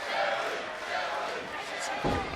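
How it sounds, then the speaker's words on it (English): A wrestling arena crowd roars during a championship match, a loud sustained cheer heard under energetic commentary, with a sharp thud near the end. "Feeling the energy of the crowd here."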